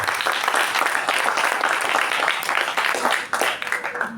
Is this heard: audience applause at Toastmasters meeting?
yes